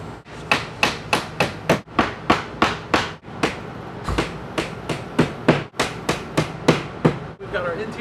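Nails are driven into interior wooden door casing around a newly installed sliding glass door with a rapid series of sharp, loud hammer strikes, close and rhythmic, in short bursts separated by brief pauses.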